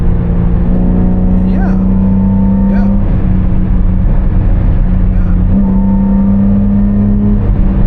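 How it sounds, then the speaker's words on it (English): Nissan Patrol Y61 engine pulls steadily in third gear on a dyno, a loud sustained drone with rising harmonics through most of the stretch and a short dip near the middle, while a voice talks over it. "I'm in third gear right now. I'm right in the meat of the torque"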